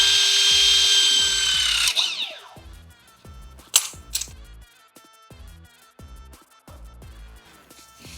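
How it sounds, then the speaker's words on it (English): Milwaukee M18 Force Logic 600 MCM cordless crimper crimping a barrel lug: a loud whirring motor run that winds down with a sharp mechanical release, followed by a series of rhythmic clicks and ratcheting ticks with no talking. "So now that our first crimp is done"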